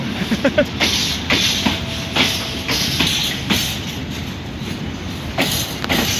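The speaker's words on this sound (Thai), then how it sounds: "เสียงล้อกระทบรางตุ้งตุ้งตุ้งตุ้ง" Wheels of a container freight train at Bang Sue Junction thump over rail joints in a regular, loud clickety-clack with a faint hiss between the beats.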